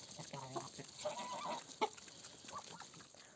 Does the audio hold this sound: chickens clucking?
yes